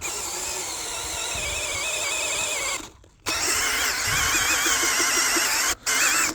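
A cordless drill drilling into clay whines continuously at high speed, briefly stopping twice before spinning up again, loud and close.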